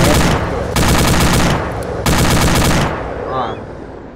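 Bursts of automatic gunfire in ArmA 2 with the ACE mod, two long loud volleys separated by short gaps, then a quieter tail of distant shots and faint rumble.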